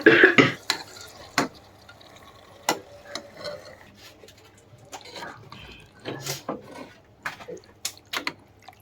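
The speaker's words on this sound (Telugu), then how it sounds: "తర్వాత ఉప్పు కారం బాగా కలుపుకోవాలి" Salt and chili powder are stirred into mutton curry in a pot with irregular spoon clacks, scrapes and wet stirring over a low sizzle. Occasional voices come and go.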